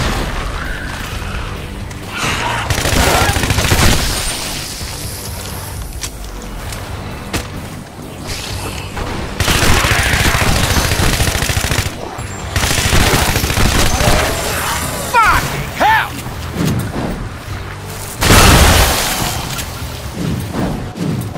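Rifle fire in the Shadow Warrior 2 video game: loud, sustained volleys of rapid shots with heavy booming impacts, continuing in dense stretches separated by brief lulls.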